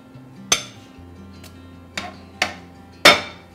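Metal utensils clink against a dish while salmon is added back into a lemon garlic butter sauce: four sharp, separate clinks, close and clear, the last the loudest, over a faint low hum.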